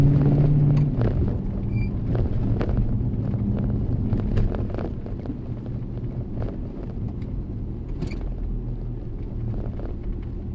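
Steady low rumble of a car's engine and exhaust with an exhaust clip fitted, heard from inside the cabin while driving on a warm South Georgia road, continuous and moderately loud with wind noise.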